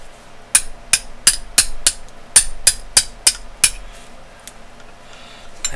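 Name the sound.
tapping out Tokarev pin with 1/16 inch punch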